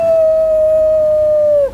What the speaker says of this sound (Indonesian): Kalau mendengar suara lolongan anjing